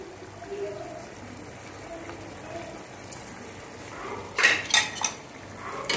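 Kasuri methi being stirred into a cooked masala in a pan for matar paneer, heard as soft scraping with a few sharper metallic clinks of a utensil against the pan near the end, under a low background hiss.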